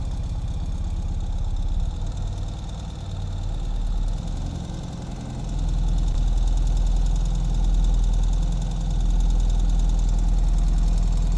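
A 2021 Ural Gear Up sidecar motorcycle engine runs steadily with a low, throbbing idle-like rumble while the bike backs up in reverse, swelling slightly louder partway through, with no talking.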